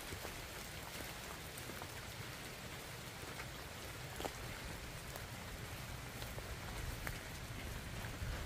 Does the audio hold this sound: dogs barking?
no